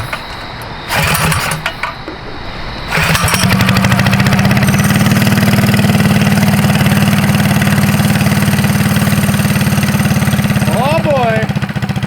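A minibike's small engine starts after a few rough pulls and then runs loudly and steadily at close range, a buzzy idle held for several seconds, with a brief voice near the end.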